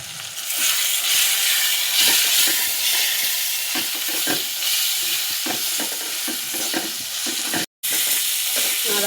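Ground turmeric, cumin and coriander frying with melted tomato in a pan, a loud close sizzle with repeated scraping strokes of a spatula stirring, briefly cut to silence near the end, no voices.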